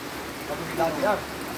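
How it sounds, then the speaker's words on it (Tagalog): Steady rain patters and hisses across the whole clip at a nipa hut construction site in Camiguin, Philippines, with a short burst of nearby speech in the middle. "Kaso umuulan."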